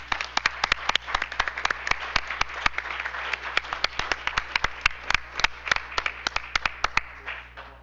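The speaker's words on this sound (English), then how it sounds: "let's give him another round of applause." Applause from a room at a school board business meeting, a steady patter of many hands with sharp individual claps standing out, fairly close and loud, running without pause before easing off at the end.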